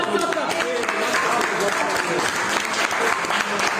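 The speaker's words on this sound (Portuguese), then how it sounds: "Uma salva de palmas pro JP" An audience applauds steadily in a dense, continuous burst, loud and close, with crowd noise mixed in.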